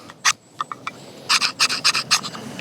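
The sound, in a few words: Gerber Strongarm knife choil scraping a ferro rod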